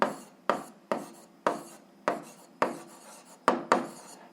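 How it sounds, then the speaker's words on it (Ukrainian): A pen scratches out an answer on paper in eight quick separate strokes, each a short dry scrape that fades before the next, close and fairly quiet with no talking. "записуємо відповідь, пишемо відповідь"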